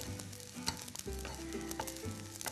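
Small dried anchovies sizzle and crackle in a hot pan while being stir-fried, a steady close frying hiss broken by light scraping stirs.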